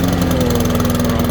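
A Honda Izy lawn mower with a dry carburettor runs briefly, a loud, close engine drone with a steady low hum and pulsing rhythm.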